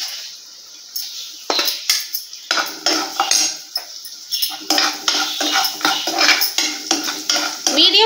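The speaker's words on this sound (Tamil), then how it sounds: "மீடியம் ஃப்ளேம்ல வச்சு இந்த தேங்காயை நல்லா அப்படியே வதக்கி விடலாம்" Chopped coconut and masala sautéing in a pan on a medium flame for a restaurant-style egg gravy, heard as a steady series of close, loud spatula scrapes and clinks against the pan with a faint sizzle underneath, no talking.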